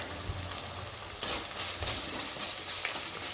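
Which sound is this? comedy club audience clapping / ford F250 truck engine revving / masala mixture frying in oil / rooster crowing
masala mixture frying in oil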